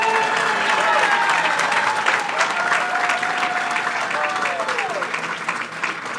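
An audience at Boricua College claps and cheers for the college president at a governor's announcement, sustained loud applause with crowd voices throughout that tapers slightly toward the end.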